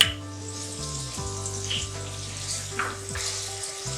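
Steady oil sizzle as garlic and ginger fry in a pan for mash ki daal, with a low mechanical hum beneath and occasional soft clinks of a utensil.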